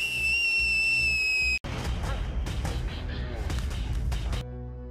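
A single loud, sustained high whistle holds steady for about a second and a half before cutting off abruptly into noisy scuffling sounds.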